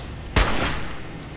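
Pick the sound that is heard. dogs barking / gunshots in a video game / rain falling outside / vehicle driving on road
gunshots in a video game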